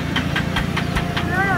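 A car engine idles with a rhythmic low thrum and repeating pulses, while a voice speaks briefly over it.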